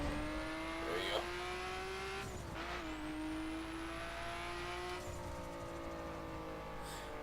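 Car engines in the racing video game The Crew rev and whine, the pitch rising and dropping as gears shift, with a brief tire squeal near the start.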